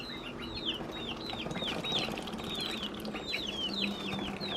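A backyard flock of chickens clucks steadily with a rooster among them, a close, busy chorus of short repeated calls over faint outdoor background noise, with no talking.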